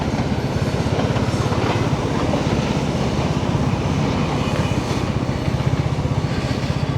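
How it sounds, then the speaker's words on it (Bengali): A train rolls past on a Dhaka street at night, heard from a motorcycle, a dense continuous rumble with rapid rhythmic clatter of wheels over rails, loud and close throughout. "আমি প্রথম এদিকটা ট্রেন যেতে দেখলাম।"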